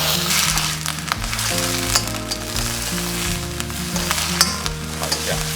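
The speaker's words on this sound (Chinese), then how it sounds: "锅里再加少许油，把刚冷却过沸过水的青菜放入，" Blanched green vegetables stir-fried in a little oil in a wok give a steady loud sizzle with scraping stirs of the spatula, alone, with music-like tones underneath.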